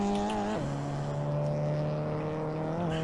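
Polo N6 race car engine in Assetto Corsa holding a steady droning tone that drops in pitch on a gear change, then drones on evenly, close and alone with no talk.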